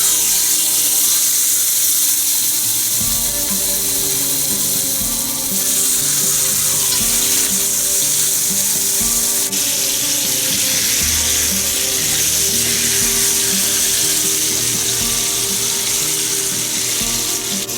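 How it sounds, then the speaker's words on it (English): Chermoula-spiced king fish fries in a salted pan with a steady, loud sizzle, alongside occasional running water from a tap and faint clatter of stirring in the kitchen. "So we want to salt the pan, and then we're going to put the fish"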